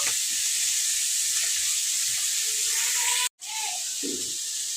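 Okra (bendakaya) fries in oil in a pan on a low simmer, giving a steady, close hiss and sizzle throughout, briefly cut off for a moment before resuming.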